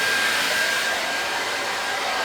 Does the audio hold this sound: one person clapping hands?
no